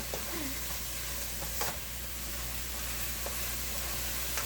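Pancit bihon noodles are stirred in a hot pan under a steady, loud sizzle of frying, with a few faint scraping clicks from the utensil and no talk.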